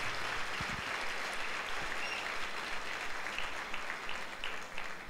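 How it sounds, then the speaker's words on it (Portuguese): A church congregation applauds during a Sunday service, a dense, steady wash of clapping from many hands that carries on for the full five seconds with no break. "pode dar um aplauso ao Senhor Jesus"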